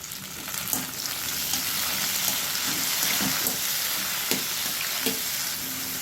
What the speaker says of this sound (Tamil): அடுத்து தக்காளியும் இது கூடவே சேர்த்து வதக்கிடலாம்